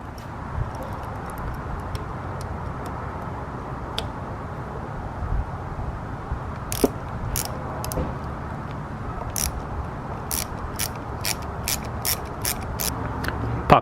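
Ratcheting clicks from a 10mm wrench loosening the lever bushing nut on a Yamaha FZ6R motorcycle, a quiet scattered series of short sharp ticks that grows into a denser run of clicks toward the end over low background noise.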